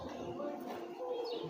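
Dove or pigeon cooing outdoors at a Monday morning flag ceremony at a school in Kumbung, with steady crowd chatter and voices running underneath throughout.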